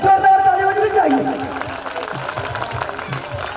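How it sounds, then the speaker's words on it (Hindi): School audience at a Meena Manch event clapping, loud dense applause mixed with crowd noise and voices, close and continuous. "जोरदार ताली बजनी चाहिए"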